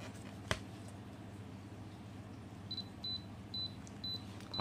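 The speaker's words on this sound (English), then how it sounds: "聽到嘟嘟聲咧" A Canon EOS Kiss film camera's self-timer gives a run of short, evenly spaced high beeps after a single click, faint over a low background hum, with no talking.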